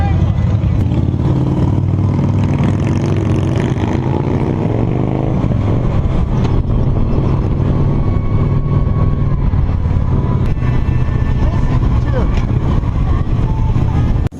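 A group of motorcycles rides along together, engines droning and revving continuously up close, with wind and road noise throughout and voices talking over the engines.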